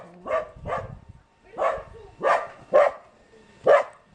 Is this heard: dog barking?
yes